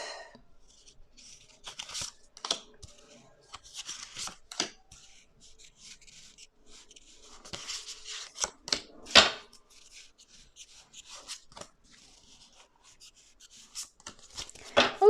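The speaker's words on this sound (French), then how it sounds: "je vais recouvrir le tirage avec quelques cartes du tarot" Tarot cards are laid over a spread on a table in a series of close, soft slides, taps and rustles, scattered irregularly and louder in a few spots, with quiet gaps between.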